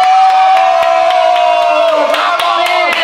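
A small group cheers and whoops for Guille at a lively home gathering, loud close shouts and scattered claps over a steady sustained tone that drops near the end.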